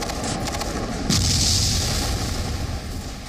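An explosion from an airstrike in Gaza, a deep, heavy boom that erupts over a constant roar of background noise and then slowly fades.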